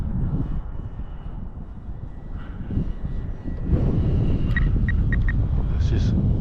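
RC prop-driven F-16 model jet making a full-speed pass, its steady propeller-engine drone swelling louder midway and holding strong, with wind rush over the microphone and a few faint high beeps near the end.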